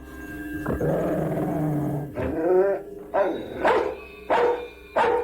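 A dog growls in a long rumbling snarl, then breaks into several sharp close barks and yips spaced across the moment, loud and alone with no talk.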